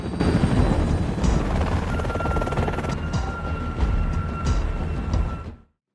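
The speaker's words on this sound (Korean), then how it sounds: "이때 나타난 헬기에 도움을 요청하는데" A helicopter thrums loudly and continuously with a dense, rumbling roar, steady throughout before cutting off abruptly.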